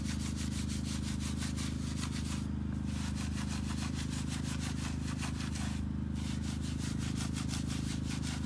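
Speedmaster brush scrubbing a car wheel coated in brake dust and wheel cleaner, rapid rhythmic back-and-forth scrubbing strokes over a steady low hum, close and continuous, with no talking.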